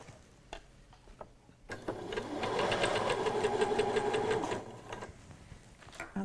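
A sewing machine runs a steady, close, mechanical whir for about three seconds while stitching an invisible zip seam, with faint handling taps before and after.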